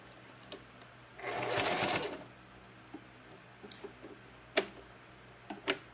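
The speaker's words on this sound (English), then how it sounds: "And proceed to sew." Sewing machine running a zigzag stitch with white contrast thread, attaching lace to the bottom border of a cami; one steady burst of about a second, followed by faint scattered ticks and clicks.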